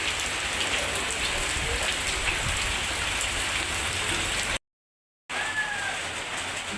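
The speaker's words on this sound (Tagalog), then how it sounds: "Nauwan guys, so kusog pagido." Heavy rain pours down in a dense, steady hiss on nearby surfaces, broken by one brief gap of silence before the downpour resumes.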